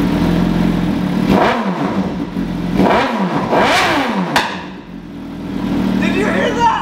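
A 750cc superbike engine revs hard in several rising and falling sweeps, loud and close, with sharp roars between idling, while people talk over it.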